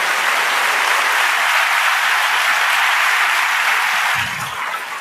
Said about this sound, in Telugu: మీరు చప్పట్లు కొట్టాలనిపించట్లేదా?